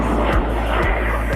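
L-29 jet aircraft at an airshow, a steady loud engine roar filling the short stretch, with faint periodic swishes over the continuous drone.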